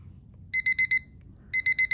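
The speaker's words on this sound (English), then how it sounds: "let me show you how loud this is, because I feel like this is one of the loudest timers I've seen" A loud magnetic kitchen timer alarm rings indoors in two bursts of rapid, shrill electronic beeps, four pulses in the first and five in the second, separated by a short pause over quiet room hiss.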